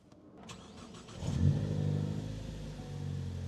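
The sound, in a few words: Ford Focus ST engine running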